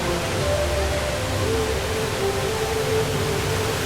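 Steady, dense rush of falling water from the Rain Vortex indoor waterfall at Singapore's Jewel Changi Airport, a constant broadband roar with faint background voices.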